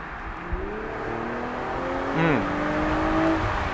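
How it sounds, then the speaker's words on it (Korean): BMW Z4 M40i roadster accelerating from speed, a steady engine drone whose harmonics climb smoothly through the run, with a brief swell near the middle, heard continuously from inside the car. "지금 약간 어느 정도 속도가 있는 상태에서 가속을 했을 때는"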